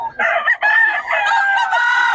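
A rooster crows loudly and close up in one long, strained call, with a brief clucking note at the start.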